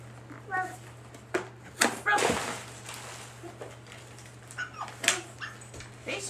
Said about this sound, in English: Mommy's interested in the dog noise.